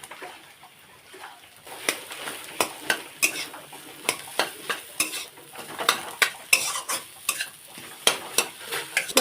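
Boiled, mashed potato mixed with ground spices frying in a pan, with repeated scraping, clinking stirring strokes that grow steadier and louder over a continuous sizzle, no voices.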